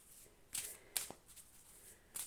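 Oracle cards being shuffled by hand in a few quick riffling bursts, crisp and close, with quiet pauses between them.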